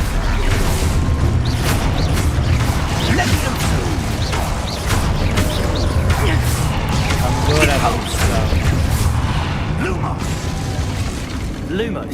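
Expulso and Confringo spell explosions in the Hogwarts Legacy video game, repeated booms and crashing blasts with mechanical clatter over a continuous loud battle bed, with voices talking throughout.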